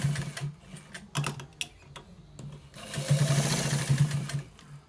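Sewing machine stitching a short design down the side of a trouser leg, running in bursts of rapid mechanical whirring with pauses between, then a longer steady run near the end, close and alone without talk.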